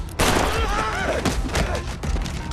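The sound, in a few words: machine gun fire in a film fight scene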